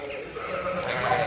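A goat on an Israeli farm raising goats for meat gives a drawn-out, wavering bleat, close and fairly loud against faint background noise.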